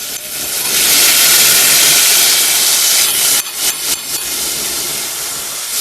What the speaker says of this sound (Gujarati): તો તેલ નાખી દીધું છે અને હવે નાખવાનો છે મસાલો